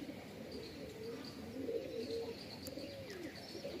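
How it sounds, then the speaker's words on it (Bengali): Somewhere outdoors a flock of pigeons gives soft cooing and murmuring calls, with a few faint chirps, fairly quiet and steady throughout, and no speech. "এই যে 12খানা যাচ্ছে পায়রা,"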